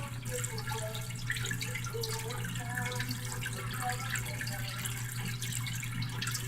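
Water flowing steadily from a garden hose into a homemade gold-prospecting blue bowl setup at home, giving a continuous close splashing rush with a low steady hum underneath.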